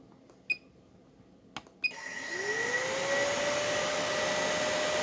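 Electric cooling fan on a Kawasaki ZX10R motorcycle switches on after a few sharp clicks, spinning up into a steady whirring blow with a rising tone that holds close and constant.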